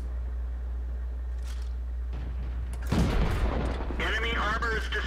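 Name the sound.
tank cannon fire hitting enemy in World of Tanks video game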